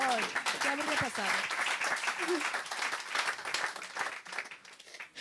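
A congregation applauds at a baptism service, a dense, loud wash of clapping and cheering that fills the room while voices call out over it and sustained tones sound briefly near the start.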